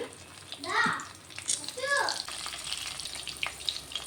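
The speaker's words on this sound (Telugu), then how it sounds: "ఇట్లా వంకాయలు అయితే అన్నీ పెట్టేసుకొని ఫ్రై చేసుకోవాలి." Eggplants frying in oil in a pan, a soft steady sizzle running throughout, with a couple of brief louder hissing bursts near the start and small clicks scattered over it.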